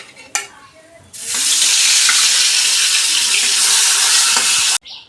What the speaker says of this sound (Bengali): আর 2টো মাছ রয়ে গেছে, এগুলো ভেজে নিই